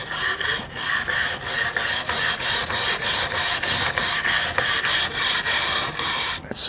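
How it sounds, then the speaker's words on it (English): A super stiff bristle brush scrubs a wooden board in quick, regular back-and-forth strokes, about two per second, producing a loud, close, dry rasping that continues steadily without speech. "This is a super stiff bristle brush."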